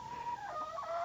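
Backyard chickens, young hens not yet laying, clucking and calling in a brief, steady stretch of farmyard sound at moderate level with no talking.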